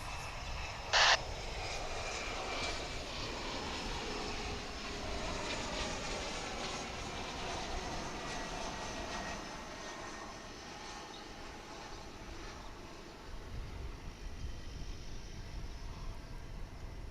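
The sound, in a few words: Mitsubishi 900 LR airliner coming in to land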